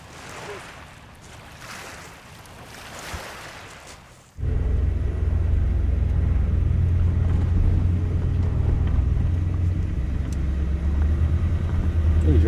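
A car drives through a cemetery as a shortcut; after a quieter opening with faint speech-like sounds, a loud steady low engine and road rumble starts abruptly and continues close by to the end.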